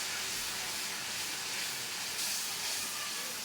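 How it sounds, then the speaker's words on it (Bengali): Spice masala of turmeric, coriander powder, chilli powder and sliced green chillies frying in a pan, giving a steady, fairly loud hiss that runs unbroken throughout with no talking. "মশলাটা এখন ভালোভাবে কষাচ্ছি।"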